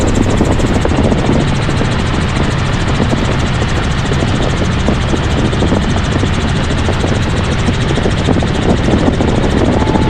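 A tour helicopter flies over Cocoa Beach near the Cape, its rotor and engine a loud, unbroken close-up roar with dense rapid blade chop throughout, no speech.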